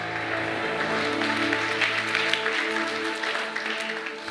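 A church congregation applauds together in a steady, sustained wash of clapping that fills the room, loud and continuous with no speech over it.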